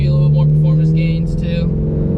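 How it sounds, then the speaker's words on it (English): An FRS with a gutted exhaust, no muffler or resonator, holds a loud, steady, droning engine note close by while someone talks over it. "by not having the muffler and having that more of aggressive exhaust note"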